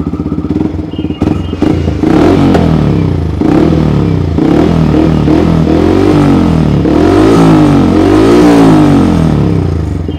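A Yamaha MT-15 motorcycle fitted with an Akrapovic full-system exhaust starts with a clatter, then revs hard several times, loud and close, its rising and falling engine tone sweeping up and down over about ten seconds.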